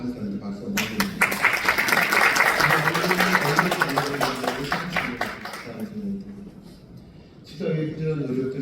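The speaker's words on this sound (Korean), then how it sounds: "박수 한번 해주세요." An audience applauds at a parliamentary health forum, a dense round of clapping for about five seconds that fades out, followed by speech from the podium.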